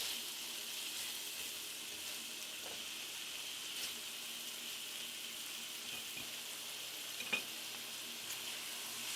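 Half a diced onion cooks down in a pan, giving a steady, quiet sizzle that runs throughout with faint stirring clinks, one brief sharp tap near the end, and no talking.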